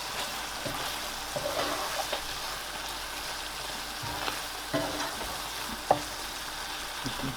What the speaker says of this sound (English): I'm going to squash these tomatoes